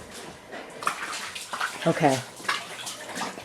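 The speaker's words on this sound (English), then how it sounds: "I'm still standing in water." Water sloshes and splashes around someone wading in a flooded basement, close and irregular, as a person speaks briefly.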